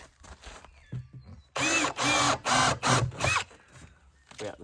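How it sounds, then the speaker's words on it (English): A drill bores a hole in a 20-litre plastic drum, several loud whirring bursts close by, separated by short pauses, with quieter handling sounds around them. "we just drill a hole in here"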